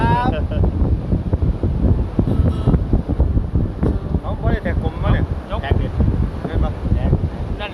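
Strong wind at a beach in Pranburi buffeting the microphone, a constant loud rumbling roar underneath people talking close by throughout.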